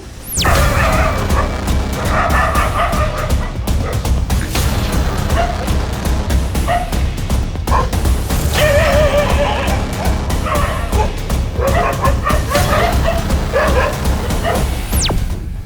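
Several stray dogs bark loudly and repeatedly on a street in Vijayapura, Karnataka, close by, with overlapping yelps and sharp bursts continuing throughout.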